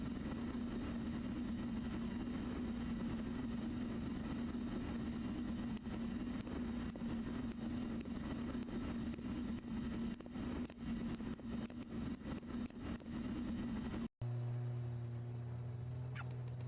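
A Toyota Hilux engine in a video game runs at a steady low idle hum, quiet and continuous, cutting off abruptly near the end to a different low tone.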